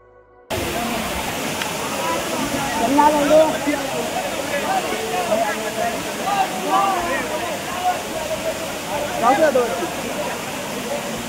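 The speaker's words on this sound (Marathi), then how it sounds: "पावसाळा सोडता इथे सर्व ऋतूंमध्ये हा धबधबा चालू असतो." The Kalmandvi waterfall near Jawhar pours steadily in the dry season with a continuous broadband roar of falling water, and faint voices rise and fall underneath it.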